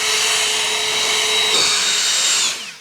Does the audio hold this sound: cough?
no